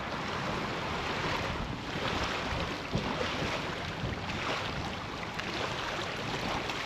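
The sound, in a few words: wind and rough waves around a fishing boat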